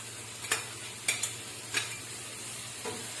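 Tomatoes being stirred in a frying pan over sautéed chicken masala, a few quiet spoon scrapes and soft stirring strokes at irregular intervals over a faint, steady low hum.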